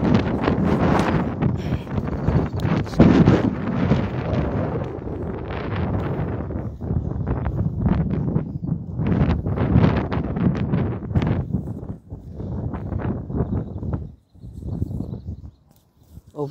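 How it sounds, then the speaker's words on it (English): Strong gusts of wind buffet the microphone on Areopagus Hill in Athens, a loud rumbling roar that surges and dips almost continuously, easing briefly near the end, with no voices. "It's a bit windy."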